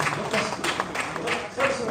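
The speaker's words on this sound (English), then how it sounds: "Can they have a round of applause," Applause from the audience at the Pan African Pyramid Awards ceremony, an uneven, moderately loud burst of many hands clapping that swells and dips.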